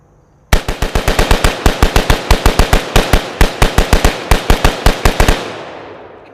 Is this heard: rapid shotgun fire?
yes